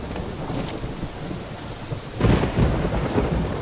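A thunderstorm in The Witcher 3 video game, with steady heavy rain and a loud rumble of thunder rolling in partway through, no voices.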